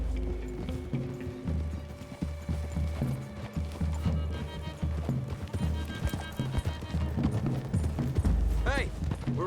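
Horses galloping in the open-world game Red Dead Redemption 2: steady rapid hoofbeats thud throughout, layered with game music and occasional voices.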